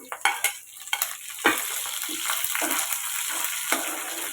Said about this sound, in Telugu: ఇప్పుడు కద్దెలపాయ ముక్కలు ఈ కరివేపాకు వేసేద్దాము